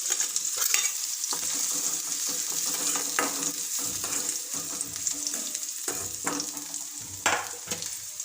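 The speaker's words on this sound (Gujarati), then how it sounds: "કાંદાને આપણે 2 મિનિટ તેલમાં સતળાવા દેવાનો છે।" Chopped onions, capsicum and other vegetables fry in hot oil for homemade Maggi noodles, giving a continuous near sizzle with irregular scraping stirs and clinks of a spatula against the pan throughout.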